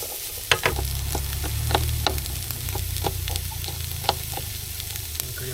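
Sliced carrots and zucchini sizzle in a hot pan at a campsite, a constant close frying hiss broken by scattered pops and crackles, with no talking.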